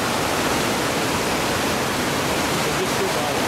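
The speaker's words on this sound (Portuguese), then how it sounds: "E praticamente uma cachoeira." River rapids tumbling almost like a waterfall give off a continuous, dense roar of rushing water, steady and loud throughout with no breaks.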